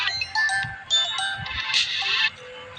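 A phone ringtone plays loudly and continuously, a bright melodic ringing pattern with repeating notes filling the short span, with no talk over it.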